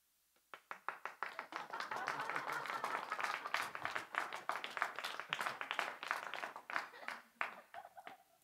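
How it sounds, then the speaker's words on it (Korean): A church congregation applauds during a Korean sermon, a dense wave of clapping that swells quickly, holds steady for several seconds, then thins into scattered claps, with a few voices mixed in. "하나님께서 저에게 주신 박수인 줄로 믿습니다."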